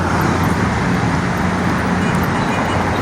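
Steady, loud road traffic roars along EDSA, a wide city highway in Manila, with a continuous wash of passing cars, buses and engines close by and no distinct voices.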